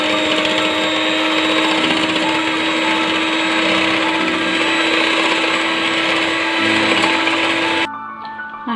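An electric mixer or beater whirs steadily and loudly, beating butter into curd for a chocolate cake batter, then cuts off abruptly near the end.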